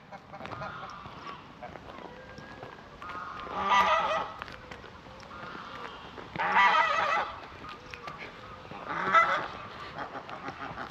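A goose honks near small boats at the Norfolk Broads marina in Richardson's, three loud bursts of harsh honking close by, separated by quieter stretches of background noise.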